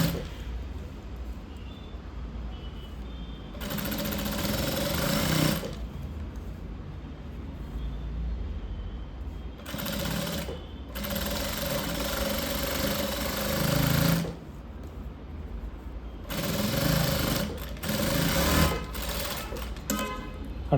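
A sewing machine stitches the lining of a blouse in several sustained runs, a steady close mechanical whir over a low background hum, pausing between runs, with no speech.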